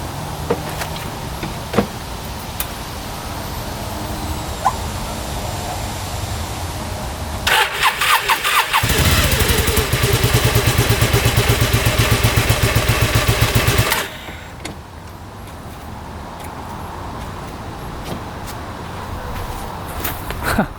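A rebuilt UTV engine after an oil change cranks and catches, with clicks and rattles leading into a loud rapid churning run for several seconds before settling into a quieter steady idle.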